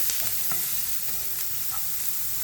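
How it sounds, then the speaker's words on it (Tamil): Ingredients for a fish cutlet sautéing in a pan, a strong steady sizzle with a spoon stirring and scraping at intervals, close and continuous with no talking. "நல்லா வதங்கட்டுக்கும்."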